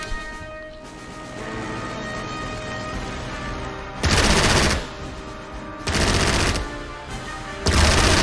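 Bursts of machine-gun fire from a fighter and a bomber in a WWII strategy game set at Khalkhin Gol, three loud broadband volleys at steady intervals over a background of droning engines and music.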